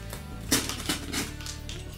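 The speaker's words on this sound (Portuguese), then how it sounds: "passar o estilete aqui" Box cutter slicing through the tape and plastic of a Funko Pop box, heard as a few short, close scraping cuts and crisp crackles over a steady low hum, with no talking.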